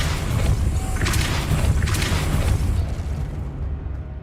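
Depulso spell blast in Hogwarts Legacy, a loud booming burst with a rumbling roar that holds for a few seconds and then quickly dies away.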